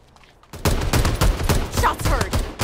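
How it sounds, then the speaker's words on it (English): Rapid bursts of gunfire in a video game, close and loud, firing in repeated sharp volleys after a quiet start and continuing almost nonstop to the end. "We got gunshots."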